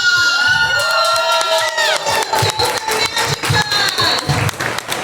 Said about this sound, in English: Round of applause for Madoka Magica.